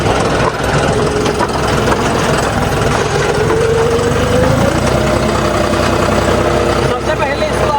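The engine of a 3630 Special Edition tractor runs steadily and loud throughout, a close, heavy chugging drone that rises slightly in pitch midway.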